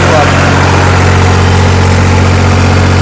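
A tractor diesel engine held at 1700 rpm in second gear high range with four-wheel drive, a loud, steady, droning roar with constant low-frequency rumble throughout.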